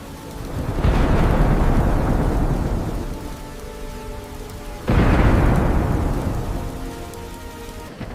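Two loud, close rumbles of thunder roll through a rainstorm, each swelling suddenly and fading slowly over steady rain.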